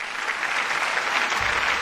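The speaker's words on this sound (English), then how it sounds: "Let me see if I can put some claps or something" Applause sound effect played over a live stream, a steady, dense burst of clapping filling the short clip without voices.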